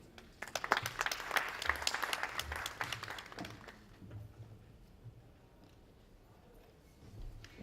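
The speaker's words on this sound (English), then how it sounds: "please welcome them again with a huge round of applause" Audience applause at an international academic conference, a dense burst of clapping that swells loud for a few seconds, then thins out into scattered claps and fades.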